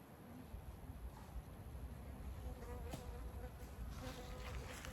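A flying insect buzzes close to a woman outdoors on a nature walk, a faint, wavering drone that rises and fades as it circles near her, against soft background noise.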